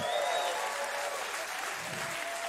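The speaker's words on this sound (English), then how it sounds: "Give the Lord a great big hand clap right there." A church congregation claps hands together during a sermon, producing a dense, sustained wash of applause that holds steady throughout. A faint tone lingers underneath.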